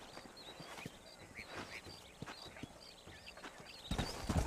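Horse hooves clip-clop at a steady walking pace in Red Dead Redemption, near a desert town, a moderately close rhythmic patter with a louder thump near the end.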